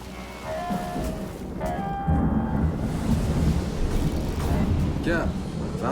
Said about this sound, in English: Got some kind of storm brewing.